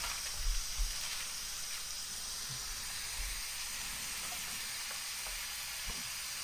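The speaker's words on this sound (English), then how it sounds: "just cooking these burgers" Burger patties frying on a hot griddle for an Oklahoma onion burger, giving a steady, continuous sizzle and hiss with a few soft low thumps, close and uninterrupted.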